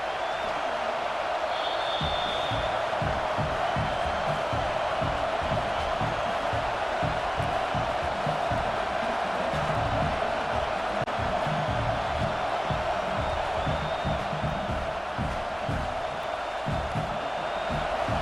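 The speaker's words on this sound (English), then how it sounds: "this crowd trying to help keep them there" Steady stadium crowd roar from EA Sports College Football 26, Missouri at Oklahoma, with fans making noise while a team is pinned deep; a continuous, dense wash of crowd noise with faint cheering swells throughout.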